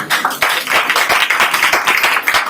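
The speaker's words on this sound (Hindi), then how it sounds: "ताली बजाइए प्रभु के लिए" A church congregation at a Sunday service claps in a loud, dense, steady burst of many hands, close and continuous throughout.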